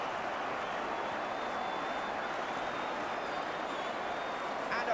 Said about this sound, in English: And applause ringing round Villa Park when they know a good goal when they see one